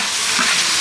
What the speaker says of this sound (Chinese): 再给它翻炒